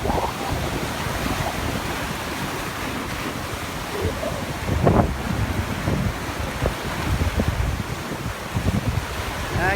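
Wind and ocean surf on a narrow peninsula jetty, with steady broadband wash and gusty microphone buffeting throughout and a louder wave surge near the middle.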